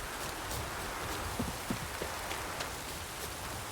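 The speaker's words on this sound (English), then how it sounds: "No use doing any work in this rain." Steady rain falls throughout in The Witcher 3, a dense patter with scattered individual drops ticking louder now and then.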